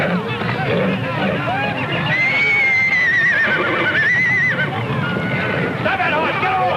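A horse whinnies loudly in long rising and falling calls while hooves clatter and a crowd murmurs, with the galloping steady and close throughout.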